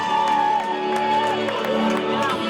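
Party crowd at a birthday surprise party cheering, whooping and shouting over steady DJ music, loud and continuous with a sustained tonal whistle or cheer on top.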